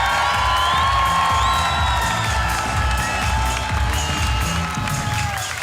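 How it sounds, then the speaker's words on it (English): A large stadium crowd cheers, whistles and applauds the host nation Malta at a sports games opening ceremony, a dense, loud, sustained roar of voices and clapping with shrill whoops throughout. "let us stand up and give a huge round of applause to the host country"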